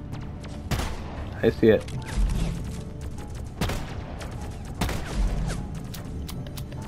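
Repeated gunfire aimed at enemy turrets in the co-op video game Deep Rock Galactic, sharp cracking bursts mixed with game noise while a player talks over it.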